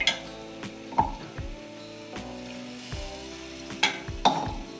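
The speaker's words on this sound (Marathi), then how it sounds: "मसाला एकसारखा गिरणं होईपर्यंत छानसा असा मिक्स करून घ्यायचा आहे" Masala spices sizzle and fry in oil over a low flame for fish curry, with steady crackling and several sharp scrapes and clinks of a spoon stirring against the pan, close and fairly loud, no voices.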